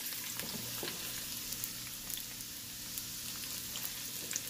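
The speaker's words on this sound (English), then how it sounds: "Saute for 2 minutes." Food sautéing in a Ninja Foodi pressure cooker while cooking a mutton roast, a steady, even sizzle with occasional light crackles and faint stirring, no voices.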